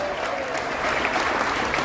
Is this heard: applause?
yes